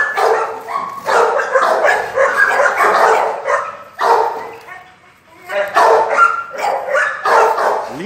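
Female guard dog at a guard-dog kennel barking in loud, close bursts with short gaps between them, and a few yips in the mix.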